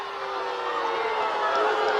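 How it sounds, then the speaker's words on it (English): Spectators at a CIF boys high school soccer match react to a referee's call, a sustained murmuring crowd roar rising slightly toward the end, heard from a distance without clear individual voices. "you can hear the reaction of the crowd on that call"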